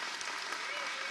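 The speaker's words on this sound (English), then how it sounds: "Let's give these students another round of applause." A school audience applauds honor roll students at a spring show, a dense steady wash of clapping that lasts about a second, with voices underneath.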